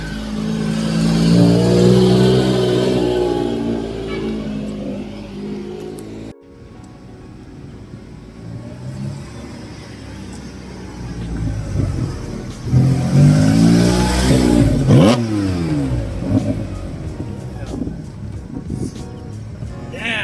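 A car revs hard at a busy car meet in Manila. The engine is loud and close, with repeated throttle blips, a brief drop to quieter idle and then renewed surging revs.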